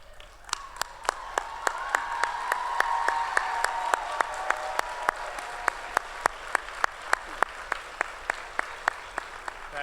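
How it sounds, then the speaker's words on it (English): Graduates at a college commencement ceremony applaud their families, a steady dense wash of clapping across the hall, with sharp individual claps punctuating it and swelling slightly in the middle before tapering. "give a round of applause to your families"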